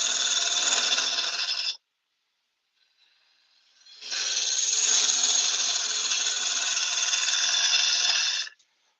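Bowl gouge shearing into yew on a wood lathe: a loud, steady hissing cut that stops briefly, then resumes after a faint lead-in and runs for several seconds before cutting off.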